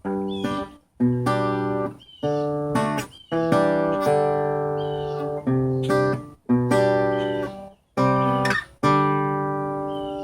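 Strummed guitar chords ring out in a steady progression ending on a G, each chord struck firmly and left to sustain briefly before the next, with no voices.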